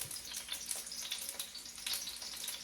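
Bulgogi meat hitting a hot pan gives off a steady, fairly quiet sizzle with fine crackling spatter, continuous and with no voices.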